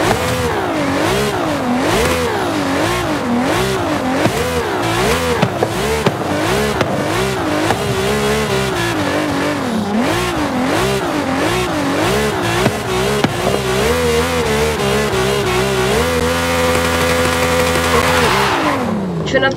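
A car engine in the racing video game Forza Horizon 5 revs repeatedly in loud, rising and falling surges for about sixteen seconds, then settles into a steady, droning high idle before cutting off.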